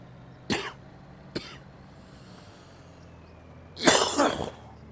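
A sick man coughs close to the microphone, two sharp single coughs followed after a pause by a longer burst of harsh coughing and throat clearing, with quiet room background between.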